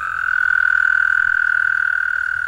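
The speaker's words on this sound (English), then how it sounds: "once a frog finds it and there's a male calling, other frogs are going to be attracted to that." Male frogs call from a garden pond in a steady, unbroken chorus of high trilling croaks, close and fairly loud, with no voices.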